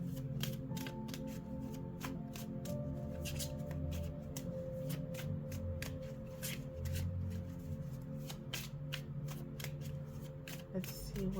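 A tarot deck is shuffled by hand at close range, a soft repeated riffling and sharp card snaps recurring throughout, faint overall, with a steady low hum in the background.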